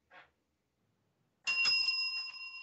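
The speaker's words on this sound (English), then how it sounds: "that sounded like a double bell to me, which means my shift is coming to an end" A double ring of a tabletop service bell on a gaming podcast, a brief tap followed after a pause by a louder, sustained ringing tone that decays slowly, heard alone without talk.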